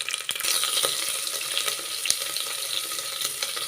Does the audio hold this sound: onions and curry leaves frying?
yes